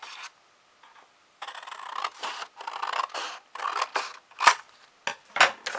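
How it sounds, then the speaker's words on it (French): Scissors snip through a cardboard game box in a run of short, close, crisp cuts separated by brief pauses, with a few sharper clicks toward the end and no talking. "On coupe."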